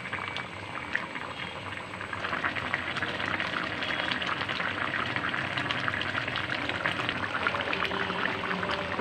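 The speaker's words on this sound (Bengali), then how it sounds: "দেখুন কেমন টকবক টকবক করে ফুটে উঠেছে।" Fish curry boils under a lid in a home kitchen, a dense, steady bubbling and gurgling that runs the whole time with no talk.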